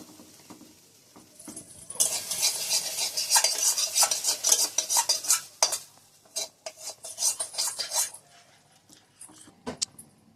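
Fried masala stirred into fish curry broth in a pan, with a spoon scraping and clinking in busy bursts that start after a quiet opening and trail off toward the end, alone and close.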